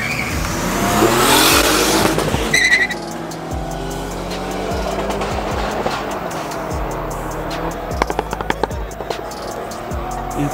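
A Ford Fiesta ST and a turbocharged BMW E30 launch at a Nasrec drag race with a loud burst of engine roar and tire noise, then accelerate away through gear changes, fading into the distance.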